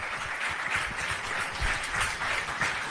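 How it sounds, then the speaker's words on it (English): Audience applause at a book launch ceremony for a cricketer's wife's diary, a steady dense wash of many hands clapping continuously for about three seconds, moderately loud and sustained. "So round of applause for Pooja and Cheteshwar as well."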